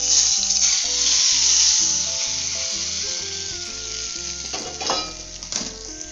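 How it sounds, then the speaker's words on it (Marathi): Hot tempering is poured over a raw mango and onion mixture and hisses in a bright, sharp sizzle that is strongest at first and then eases, with background music playing underneath. "तर ही फोडणी आता आपण हे कैरी कांद्याचं सारण आहे त्यावर टाकून घेऊ।"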